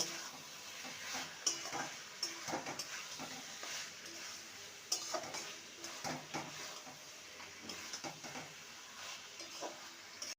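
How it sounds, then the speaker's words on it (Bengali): Snake gourd being stirred in a pan with a drizzle of raw mustard oil: a spoon scrapes and clinks against the metal in irregular strokes over a soft, steady sizzle, close and moderately quiet, with no one talking. "কাঁচা তেল দিয়ে দু মিনিট নেড়ে নিয়েছি"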